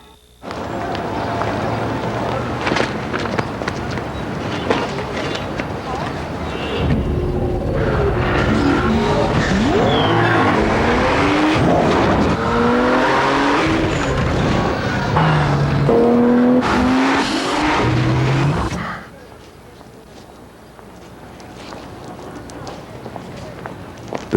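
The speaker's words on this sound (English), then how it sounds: "The 265 horsepower Nissan Maxima." A 265-horsepower Nissan Maxima in a 2003 TV commercial, engine revving and tires squealing in a loud, sustained racing burst under music and a narrator's voice, then fading to quieter sound.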